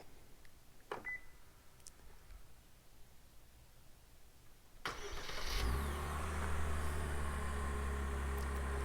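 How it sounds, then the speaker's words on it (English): A 2024 Genesis GV70 AWD 3.5T Sport Prestige starts by remote start: a quiet stretch with a brief beep, then the engine cranks and catches with a short rev before settling into a steady idle. "we do of course have remote start for the Genesis GV70, as you just heard"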